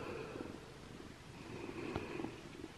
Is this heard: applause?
no